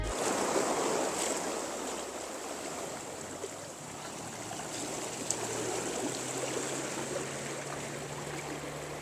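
Sea waves roll in at Gadani beach in Balochistan, a continuous broad surf roar with steady wind noise on the microphone and no voices.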